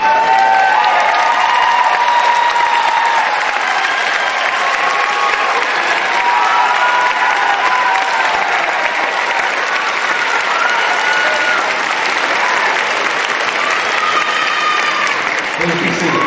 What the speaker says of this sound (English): giving a round of applause to all of your family and friends who helped you to reach this day